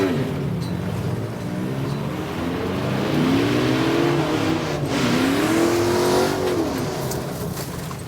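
An LS1-powered Nissan Silvia and a Subaru launch in an off-road 0 to 60 race, their engines roaring loudly and climbing in pitch through revving gear pulls, close by and with no talking.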